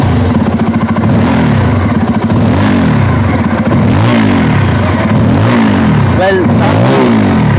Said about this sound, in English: now let's check out the exhaust note of it. We've got the dual exhaust outlet.